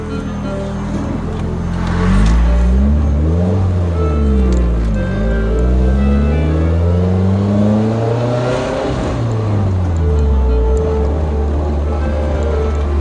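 1990 Nissan 240SX with an SR20DET engine and Garrett GT2871 turbo pulling away, heard loud from inside as the engine revs rise and fall repeatedly through several gear changes.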